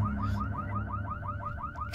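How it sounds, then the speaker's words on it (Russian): Car alarm going off in a Minecraft horror series, a loud, steady, repeating electronic whoop, each rising tone cycling about every quarter second, close and alone with no talk. "На ней что, блядь, сигнализация стоит?"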